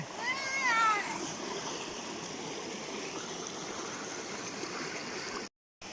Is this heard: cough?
no